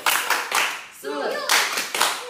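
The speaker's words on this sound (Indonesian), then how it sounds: "Tepuk tangan Yesus" A group of children at an online Sunday school service claps in rhythmic bursts, with a brief spoken or sung chant in the middle.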